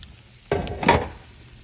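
Spoon stirring chili beans with mixed vegetables in an uncovered pot on low heat, a short scraping swish followed by a second stir, close up.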